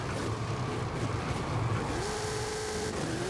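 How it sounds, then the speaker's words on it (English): Car engine in Forza Horizon, a big engine of about 1,800 horsepower, sitting on the rev limiter: a steady, dense engine roar that holds for the whole stretch with a rising tonal whine near the end. "I can't even get it to calm down enough because it's just rev limiter time."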